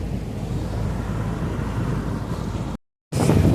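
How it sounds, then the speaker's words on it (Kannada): A large ship moving fast through open water, its hull churning wake foam while wind blows across it: a steady, loud broadband rush of water and wind, close by, cut off by a brief silence before resuming. "ಇದು ನೊರೆ ನೋಡಿ ಹೋಗುದು, ತುಂಬ ಸ್ಪೀಡಲ್ಲಿ ಇದ್ದೇವೆ. ಅದಕ್ಕೆ ಗಾಳಿ ಸಹ ಆಗ್ತದೆ."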